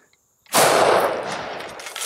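A single loud Springfield 1903 rifle shot fired at Level IV body armor outdoors, an abrupt close blast that rings on with a long, decaying tail.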